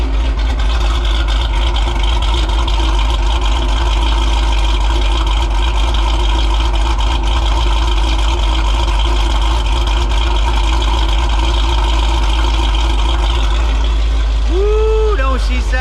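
An engine idles steadily and warms up after a cam swap, its rough, loping tone holding constant and loud throughout with no speech over it.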